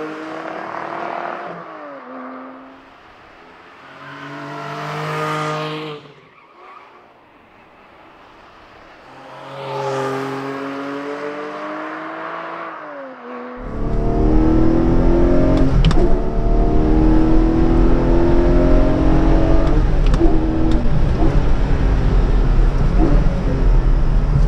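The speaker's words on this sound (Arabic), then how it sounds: "فتفضلوا معنا لحتى نختبر قدراتها ونشوف التماسك، التسارع، الكبح وكل شيء بيختص بهالكايمان السريعه" A 2020 Porsche Cayman 718 GTS with a 395 hp 4.0-litre flat-six and manual gearbox on a race track. Two rising engine revs give way to a loud, sustained roar mixed with road and wind noise, with no talking.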